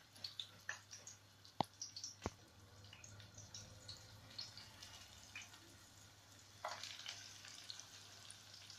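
Rolls laid seam-side down sizzle in well-heated oil in a frying pan, a quiet crackle with scattered pops and spits, brief clicks early on and a livelier burst of sizzling toward the end.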